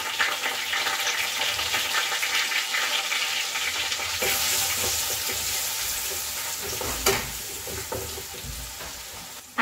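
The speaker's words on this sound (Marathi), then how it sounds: "आता मी यामध्ये लसूण आणि अद्रकची पेस्ट टाकून दिली." Garlic and ginger paste sizzling in hot oil, a close, continuous frying crackle with occasional stirring scrapes and a brief sharper clatter partway through.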